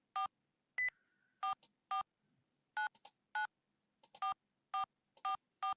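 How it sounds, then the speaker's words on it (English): Phone keypad tones as a message is typed on a phone in the visual novel Saya no Uta: a dozen short, evenly pitched beeps in an uneven rhythm with brief gaps, clear and isolated with no voices. "So this time, I typed it into the phone."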